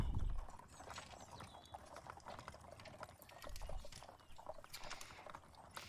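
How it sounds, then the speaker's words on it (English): Horses pull a wagon along a road in a looping recording, their hooves clip-clopping steadily with faint rattling of the wagon, quiet and distant-sounding throughout. "This video of just like looping sound of like horses and a wagon going on a road."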